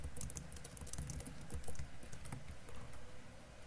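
Someone types Python code on a computer keyboard: a quiet, steady patter of rapid key clicks for several seconds, close but faint, with no talking.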